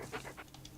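A dog-like creature panting in Monster Hunter Rise, a short burst of quick breathy pants close up over a low steady game hum.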